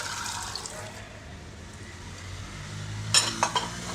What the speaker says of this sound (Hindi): और इसको मैं हिलाऊंगी